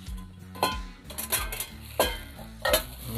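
Metal camping cookware plates being unpacked, with several distinct clinks and clatters of thin metal knocking together, close and fairly quiet, spaced irregularly over a few seconds.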